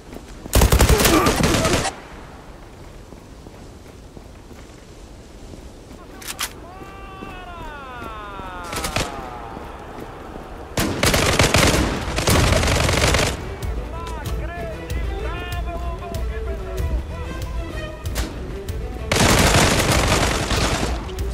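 Bursts of automatic gunfire from the PC shooter game Zula, loud rapid volleys separated by quieter stretches of game sound and whistling effects, with no voices.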